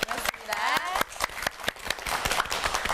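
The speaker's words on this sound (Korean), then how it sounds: "다시 한번 뜨거운 박수 부탁드립니다." Audience at a women's career mentoring lecture claps for the speaker, sharp separate claps in a loose rhythm, close and fairly quiet, mixed with a voice talking over them.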